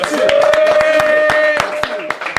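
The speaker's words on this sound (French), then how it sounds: "Applaudissez-les, les gars." A short burst of scattered hand claps from a few people, close by, with a sustained musical tone and voices underneath.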